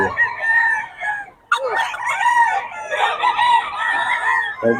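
A rooster crows loudly and close by, two long strained calls with a brief gap between them, in a poultry market setting with no speech heard.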